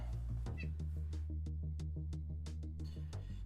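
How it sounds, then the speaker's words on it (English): A cat meows and whines at a door, its cries moderately faint over a steady electronic hum and game music with scattered clicks. "Cat was scratching at the damn door."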